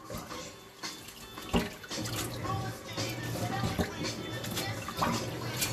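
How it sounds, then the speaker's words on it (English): Soaking water drains and splashes out from a container of sea moss being cleaned, a close, continuous running and gurgling flow with occasional clunks and faint voices in the background. "So, now I'm going to let this water out, but I'm going to strain it first."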